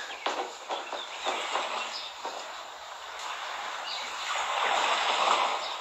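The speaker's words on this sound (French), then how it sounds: "Vous entendez les vagues? Vous entendez les petits oiseaux?" Gentle sea waves wash steadily outdoors on a spring morning while small birds chirp intermittently over the broadband surf hiss, with no talking.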